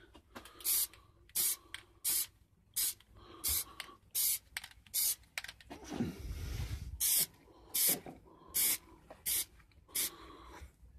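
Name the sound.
Plastidip spray can spraying a coat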